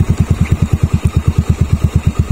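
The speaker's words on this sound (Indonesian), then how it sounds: "knalpotnya itu adem" A Yamaha Mio Smile scooter with an aftermarket ZRC exhaust thumps in a fast, even, throaty pulse, loud and close, with deep exhaust pops repeating rhythmically and no voices.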